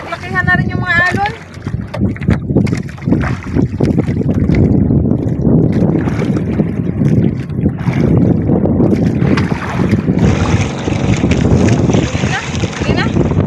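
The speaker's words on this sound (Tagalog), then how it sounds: "Ang lakas ng hangin mga ka-sisters at medyo naglakihan na rin yung mga alon." Strong wind buffets the microphone with a constant roar, while water sloshes and splashes against a boat; a voice briefly calls out near the start.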